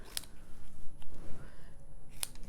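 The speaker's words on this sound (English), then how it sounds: "I'm just going to trim that." Two quick scissor snips cut card paper while crafting a Halloween greeting card, one near the start and one near the end, with quiet room noise between them.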